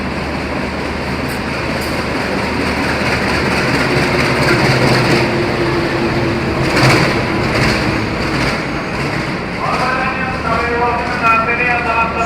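A Mutiara Timur new-generation passenger train rumbles steadily at Gubeng station, with a broad continuous roar of wheels and engine, a rising tonal whine near the end, and crowd chatter mixed in throughout.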